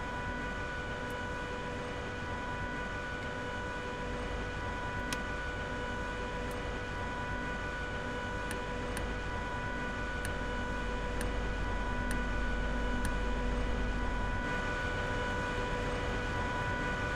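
Motors of a Class 85 electric locomotive in Train Simulator Classic: a steady, loud mechanical drone with sustained tones and faint periodic ticks, continuous with no talk.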